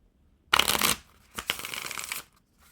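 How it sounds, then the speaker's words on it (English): A deck of Scooby Doo playing cards riffle shuffled close up: a quick fluttering burst of cards zipping together, then a second longer riffle and bridge, crisp and near in a quiet room. "if I was to riffle shuffle it there"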